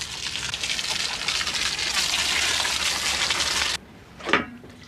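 Water gushes steadily onto a pile of clay being soaked at a pottery, a loud continuous pour that cuts off abruptly, followed by a brief thud.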